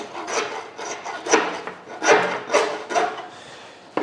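Butcher's knife trimming a lamb double loin end: several rasping, scraping strokes through meat and fat, close and fairly loud, coming in an uneven rhythm with no talking.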